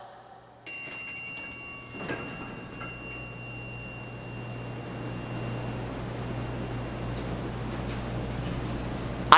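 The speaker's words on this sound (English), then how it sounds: "I love that sound of the bell." A bell chime from a 1981 Dover hydraulic elevator sounds once, clear and near, with sustained ringing tones that linger and fade over a steady low hum of machinery.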